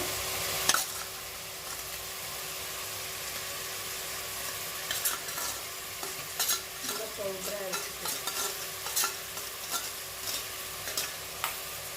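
Onions sautéing in a pan, a continuous soft sizzle with scattered spoon scrapes and stirring knocks, close and fairly quiet, no voices.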